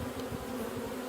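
Honeybees fly in and out of a hive entrance, making a close, steady buzzing hum with slight pulsing as individual bees pass.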